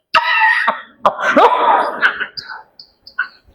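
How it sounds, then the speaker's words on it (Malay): A voice makes a few exaggerated, put-on coughs and throat-clearing sounds during a Malay religious lecture, close and loud, trailing off into small hacks. "Buat-buat batuk"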